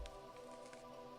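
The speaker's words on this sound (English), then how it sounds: "Oh, it is raining" Soft rain falls in the farming game Deiland, a faint, even patter with a few light drips, steady and continuous, with no voices.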